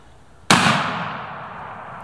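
A Mossberg 510 Mini Super Bantam .410 shotgun fires a Dragon Breath round outdoors while squirrel hunting, one sharp loud close blast that rings out and decays slowly over about a second and a half.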